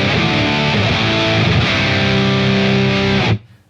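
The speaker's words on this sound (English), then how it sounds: "I really, really like using the octave down as a sort of fattener for high gain tones" Thick, heavily distorted high-gain electric guitar chords ring out loud with a deep octave-down effect layer blended in, then cut off abruptly near the end.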